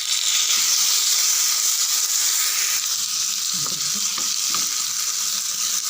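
Tomato and green chillies sauté in an oily pan, producing a loud, continuous sizzle and hiss with occasional stirring scrapes, close by and without speech.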